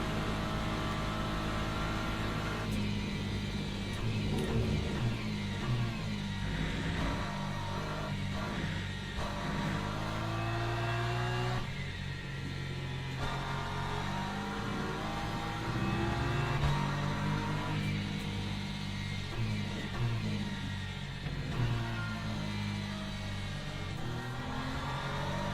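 A race car engine drones steadily down a straight in Le Mans Ultimate, a loud, continuous whine with shifting harmonic tones and brief gear-change dips, close and alone throughout.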